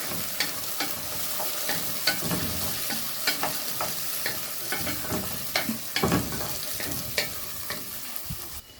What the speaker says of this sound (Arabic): شوحنا الفاصوليا كده الخضراء